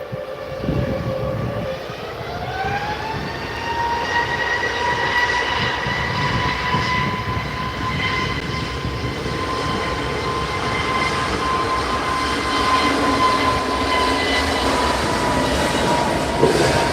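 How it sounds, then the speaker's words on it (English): A Jet2 Airbus A321 departs runway 23L at Manchester Airport, its engines spooling up into a steady, rising whine over a broad, continuous roar that holds loud and unbroken throughout. "our next one to go is this Jet2 A321"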